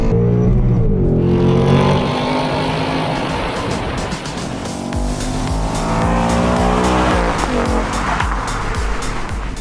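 A Ford Mustang Bullitt and a Genesis G70 race flat out on a track, their engines roaring loud and close with rising and falling pitch through gear changes and a brief tire squeal.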